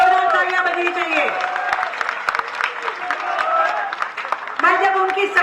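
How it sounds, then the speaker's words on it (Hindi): Clapping from a crowd at a political event in India, heard beneath continuous amplified speech from the stage, with a tonal voice and crowd murmur running over the applause. "जोरदार तालियां बजनी चाहिए"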